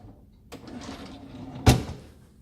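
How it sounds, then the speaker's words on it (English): Pull-out kitchen drawers in a Tampa house are handled at close range. A soft slide runs into a sharp thump as a drawer reaches its stop, with fainter knocks before it and no voices. "Yeah, pull-out drawers."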